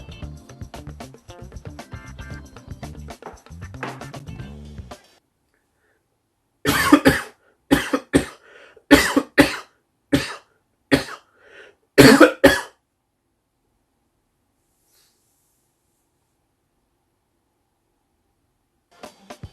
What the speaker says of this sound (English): Might have had a coughing fit just now.